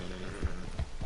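Horse in Red Dead Redemption 2 making repeated low snorting, whinny-like calls with a faint hoof rhythm, close and moderately loud against steady game ambience.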